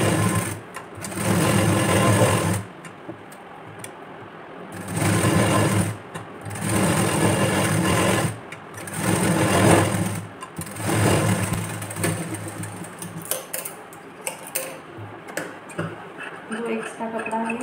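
Sewing machine stitching the side parts of a blouse, loud rapid mechanical whirring in several bursts with short pauses between them, ending in lighter clicks and handling sounds.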